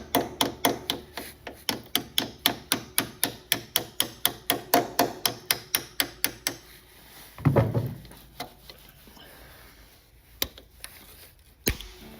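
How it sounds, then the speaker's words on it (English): Steady, rapid hammer blows ring out close by while fitting a lowered foot peg kit to a KTM 1290 Super Adventure motorcycle, about two per second, then stop, followed by a few scattered knocks and clunks. "Oh, a bit of hammering."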